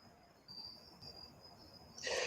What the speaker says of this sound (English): Y'all hear crickets in the background?